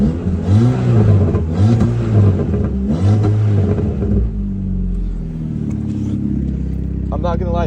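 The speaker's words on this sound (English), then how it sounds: "Let's give her some revs." A 2006-2009 VW Mk5 GTI with a newly installed downpipe is revved three times in quick succession, each rise and fall distinct and close, before settling into a low, rumbling idle.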